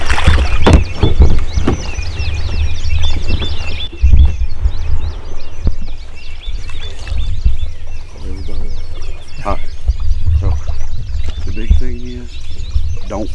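Kayak paddling on open water during a public-land turkey hunt in Kansas, with repeated soft splashes and water noise over steady low wind rumble, birds calling in the background and occasional talk.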